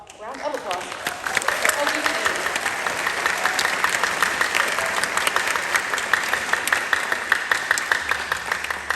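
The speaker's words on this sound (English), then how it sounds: "If you would give them a round of applause." An audience at a middle school spring concert applauds the 8th grade symphonic band, a dense, steady wash of clapping that swells in quickly and holds at full strength for the whole stretch.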